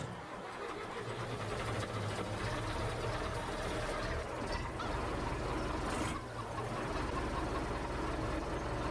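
An older, rusty Agristar tractor in Farming Simulator 17 cranks over and settles into a rough, rattling mid-pitched idle that stays loud and close throughout, with no talking.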